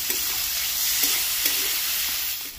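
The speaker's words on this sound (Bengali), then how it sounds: "এবার এটাকে ভালো করে ভেজে নিই" Chopped onion and slit green chillies fry in oil in a pan for pui shak with prawns, giving a dense, even sizzle close by with a few soft stirring taps, and no one talking.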